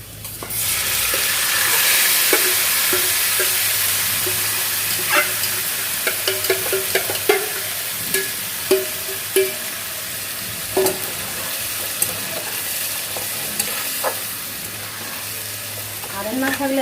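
Mutton hits a pan of fried onions on a home kitchen stove and sizzles loudly, the frying hiss steady and close while a spatula scrapes and knocks against the pan in scattered, repeated strokes.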